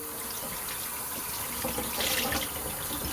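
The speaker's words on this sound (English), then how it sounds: "rinsing it in cold water." Cold tap water runs steadily as ice-dyed tie-dye fabric is rinsed in a sink, a continuous close splashing gush that swells slightly louder near the end, with no talking.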